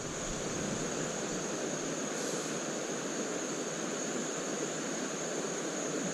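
Water flows steadily in Deer Creek, a stream at Rock State Park in Maryland, heard as a constant close rushing wash with no breaks.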